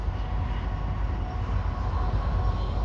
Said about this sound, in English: We've got a train coming in, guys, so hopefully